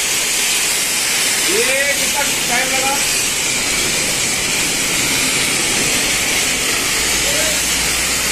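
A foam tank sprayer blasts foam over a motorbike with a loud, steady hiss that runs unbroken from start to finish, while voices talk over it.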